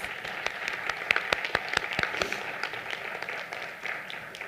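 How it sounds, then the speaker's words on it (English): Applause from the audience at an honor society induction ceremony as inductees are recognized, a moderate patter of many hands with sharp individual claps standing out, fading slightly toward the end. "Let's give them a round of applause."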